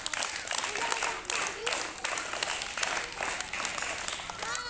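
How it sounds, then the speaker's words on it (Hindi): A group of scouts claps in a patterned scout clap for a newly elected school education minister at an eco club event, sharp bursts of many hands repeating in a quick, regular rhythm, fairly close. "इनके लिए स्काउट ताली प्रारंभ।"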